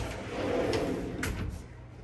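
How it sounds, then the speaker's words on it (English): A new wooden drawer in a resort hotel room slides open or shut with a short, soft scraping rumble and a couple of faint knocks, heard close and fairly quiet. "We got 2 nice drawers down here."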